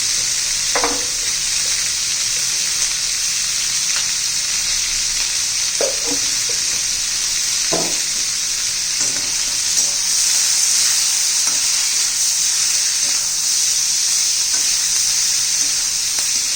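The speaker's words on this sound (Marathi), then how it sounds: "तेला चांगली फ्राय करून घेऊया" Steady hiss and crackle of capsicum frying in hot oil, with occasional clinks of a spoon stirring in the pan.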